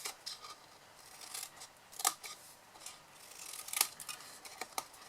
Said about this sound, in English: on your 4 corners here, we're going to cut them from the long side